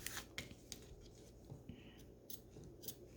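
Scissors trimming frayed edge fabric during a movie theater craft project, with dull blades: a series of quiet, crisp snips in an irregular rhythm, close up over a low background hum.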